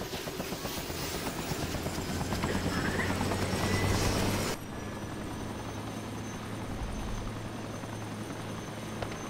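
Helicopter in the ARMA 2 military game, a steady rotor and engine drone that is loud and close at first, then drops to a slightly quieter, muffled hum partway through, continuing without talk.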